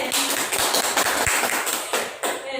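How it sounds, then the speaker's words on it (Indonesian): Students clap their hands in a classroom, a close, dense burst of applause with distinct individual claps standing out and a brief dip before it resumes. "tepuk tangan buat kalian"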